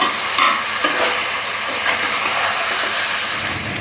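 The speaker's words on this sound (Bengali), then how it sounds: "চিকেনটাও মিশিয়ে নেব সবজির সাথে" Chicken pieces being tossed and stirred with vegetables in a hot frying pan for Chicken Manchurian, a steady broadband sizzle with scraping stir strokes throughout, close and fairly loud, no talking.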